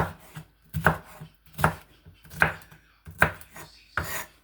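A knife chops food into small square pieces on a cutting board, with about six crisp, evenly spaced strikes, close and clear with no talk.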